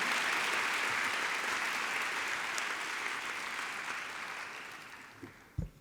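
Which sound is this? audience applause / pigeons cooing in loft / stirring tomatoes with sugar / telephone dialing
audience applause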